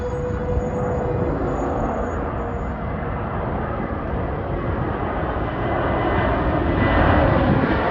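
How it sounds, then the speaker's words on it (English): A JetBlue Airbus A321 airliner inbound from Orlando comes in to land near Rosedale LIRR station, a steady broad jet roar that swells slightly toward the end, with no talk over it. "I'll get this JetBlue Airbus 321."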